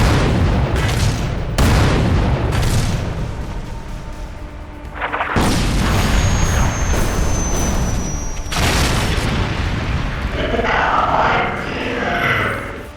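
A Rogal Dorn battle tank's cannon fires at a Necron Night Scythe aircraft in a Warhammer 40k battle. Several heavy, close booms come at uneven gaps and each rolls into a rumble, with a faint whine of the aircraft.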